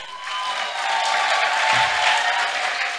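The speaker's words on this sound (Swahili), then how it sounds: "Nataka mujipigie makofi makubwa." A crowd at an outdoor political gathering in Taita Taveta claps together in a dense, sustained burst of applause that holds steady for several seconds, heard close and loud.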